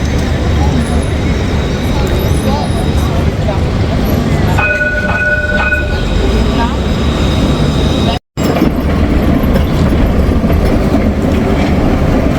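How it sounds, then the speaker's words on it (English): A Bordeaux city-centre tram rolls past steadily with a continuous rumble and faint rhythmic clatter, loud and close, a brief tonal chime partway through. "the Bordeaux Tram glides by, an iconic symbol of the city"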